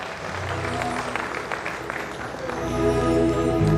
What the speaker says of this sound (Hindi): जोरदार तालियां हमारे